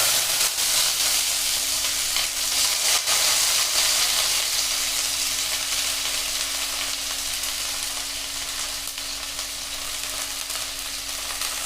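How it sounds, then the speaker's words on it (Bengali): Onions go into fully heated oil for a dhaba-style egg curry and fry with a steady, loud, close hiss and sizzle that fades slightly over time. "আমাদের তেলটা পুরো গরম হয়ে গেছে। এবার আমরা দিয়ে দিব পেঁয়াজ।"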